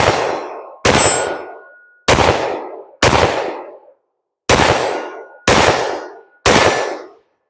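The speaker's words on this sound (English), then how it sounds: "You get a lot of blast from this handgun." Seven loud, close handgun shots from an S&W M&P 5.7, each a sharp crack with a ringing metallic tail, fired at uneven intervals with short silences between.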